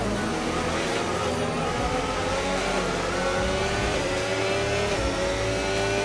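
Formula 1 race cars in an F1 video game at Shanghai scream past under sustained high-pitched engine whine, pitch gliding through shifts as they race into turns two and three, loud and unbroken.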